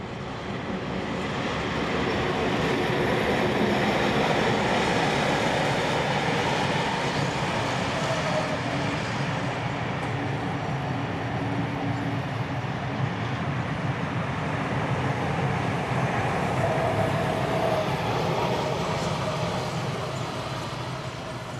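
Locomotive 4201 departs with a train heading back to Sydney in New South Wales. A loud, continuous rumble of engine and rolling wheels holds steady throughout, close by and with no talk.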